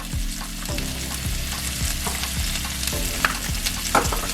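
Vegetables seasoned with garlic powder, onion powder, oregano and salt sauté in a pan, a steady close sizzle broken by repeated scrapes and stirs of a utensil, with no one talking.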